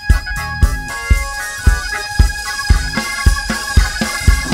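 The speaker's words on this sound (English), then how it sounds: "Everybody clap your hands." A church congregation claps hands in a steady regular beat, sharp close claps repeating about twice a second over a background of organ-like tones and crowd sound.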